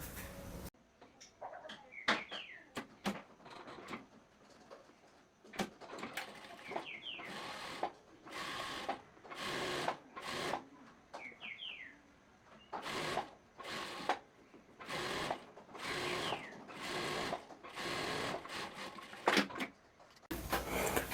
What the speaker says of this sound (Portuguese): agora eu vou na máquina reta e vou fazer a costura.